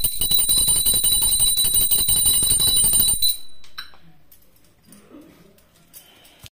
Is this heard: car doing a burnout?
no